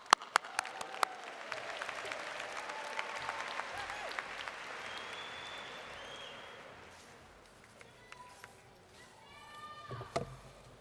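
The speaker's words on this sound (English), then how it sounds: "please give yourselves a big round of applause" Graduates at the University of Maryland 2019 spring commencement applaud, a broad, moderately distant wash of clapping across a large crowd with a few sharper nearby claps and occasional cheers, sustained for about ten seconds.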